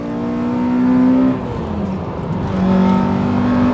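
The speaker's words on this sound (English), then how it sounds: "It has a much more raspy induction noise, whereas my car in general is pretty smooth." A modified Honda Accord Type S wagon engine revs up close as it accelerates, a raspy rising induction drone that dips at a gear change and climbs again.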